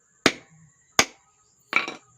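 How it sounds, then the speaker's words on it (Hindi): Three sharp hammer blows strike a wooden piece fitted against a ceiling fan with a worn bearing, each crack close and loud, spaced unevenly with the last a quick double knock, then brief silence. "इस टुकड़ा को ऊपर की ओर बिठाकर हथौड़ा से ठोक लेंगे"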